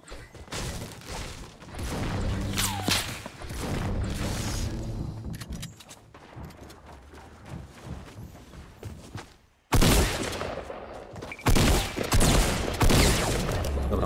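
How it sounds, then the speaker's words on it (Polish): Gunfire crackles from several directions in a Fortnite match, with bursts, thuds and a loud sudden volley near the end, in steady noisy layers with little talking. "Dobra, już ze wszystkich stron nas strzelają."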